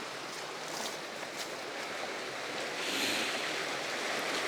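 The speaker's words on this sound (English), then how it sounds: "You can see the river that passes through." Steady broadband rush of a river flowing past on a countryside walk near Maltby Dyke, continuous and fairly close, with a light swell in the second half and no talk.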